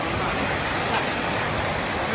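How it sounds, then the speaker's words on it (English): Steady rain falls in Pattaya, a dense, even hiss of drops with no breaks or build. "Raining."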